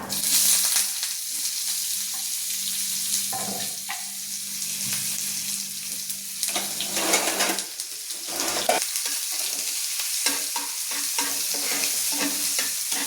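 Chopped onion fries with cumin and mustard seeds, a dense continuous sizzle close by with scraping stirs and light utensil knocks throughout.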